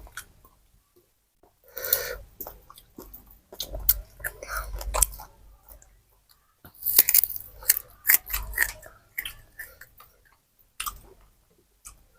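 Crispy deep-fried fermented sour fish is chewed up close in loud crunchy bursts, two main clusters of bites separated by near-silent pauses.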